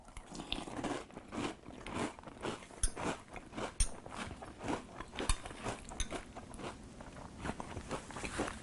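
Quiet, close chewing crunches as Nilla Wafer banana pudding cereal is eaten in milk, a soft irregular crackle and crunch repeating steadily.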